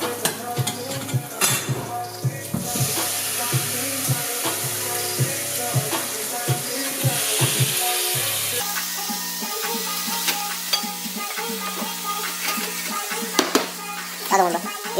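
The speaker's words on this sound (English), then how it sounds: "You wait until they get sizzling, kind of gold color, and you keep stirring so that way it does not stick to the pan." Chicken breast sizzles and fries in a pan as it is stirred, a steady crackling hiss with scraping and clinking of a utensil against the pan throughout.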